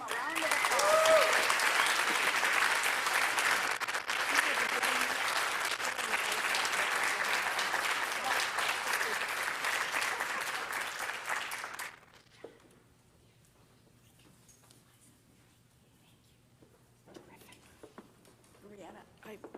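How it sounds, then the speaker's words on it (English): An audience at an annual church meeting applauds warmly for about twelve seconds, then the clapping stops abruptly, leaving a quiet room with faint murmurs and small sounds. "Let's give them a round of applause."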